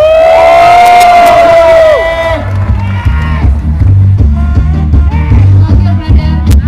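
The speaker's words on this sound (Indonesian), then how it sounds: "Mana teriakan dan tepuk tangan lo?" A crowd at an outdoor automotive market in Indonesia whoops and yells in a rising cheer, then settles into loud rhythmic noise with a pulsing low hum underneath, voices shouting over it.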